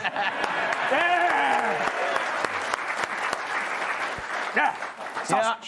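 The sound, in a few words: studio audience applauding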